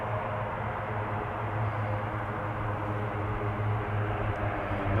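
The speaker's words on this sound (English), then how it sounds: "That's a perfect landing." Airplane landing at an island airport in Japan, a steady loud roar of engine and rushing air with a low hum, continuous and close throughout.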